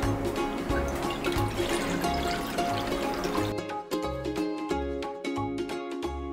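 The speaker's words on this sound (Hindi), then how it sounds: "अब हम इसमें डालेंगे पानी।" Water pouring into a jug for gol gappe pani, a steady liquid stream over looping background music, the trickle thinning toward the end.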